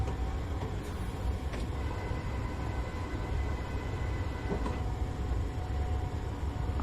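Class 314 train in a simulator game between Dalmuir and Motherwell, running along the line with a constant low rumbling drone and occasional faint clicks, steady and unbroken throughout.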